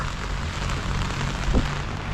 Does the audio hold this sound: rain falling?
yes